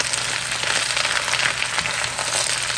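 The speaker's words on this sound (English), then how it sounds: "So we got to stir that cabbage up." Cabbage cooking in a pot, stirred during a Sunday dinner, giving a continuous loud sizzle and frying hiss with faint scraping, steady throughout with no talk.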